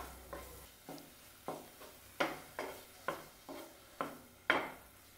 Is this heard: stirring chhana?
yes